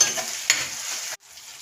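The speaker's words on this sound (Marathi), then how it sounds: "आता मी ह्याच्यामध्ये टोमॅटो टाकलेला आहे तो आपल्याला थोडाच परतायचा आहे" Tomato sautés in a pan with onion and ginger-garlic paste, a close steady sizzle with a brief stirring scrape midway, then cutting off abruptly to faint residual frying.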